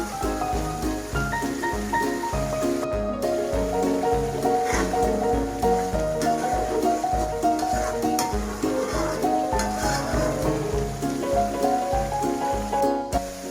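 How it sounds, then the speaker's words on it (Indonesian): Chili balado being stirred in a frying pan, a dense sizzle and spatter with a spatula scraping the pan in a steady rhythm, loud and close without voices. "Lalu diaduk lagi agar tercampur rata."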